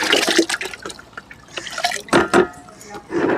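Mashed cooked rice is tipped into a bucket of water to make a liquid plant fertilizer, giving a series of close splashes, drips and gurgling pours that come in uneven bursts.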